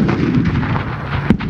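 A tank fires a shot at the Tanks, Trucks and Firepower 2020 show, one sharp, booming report near the end rising out of a steady, low, outdoor rumble.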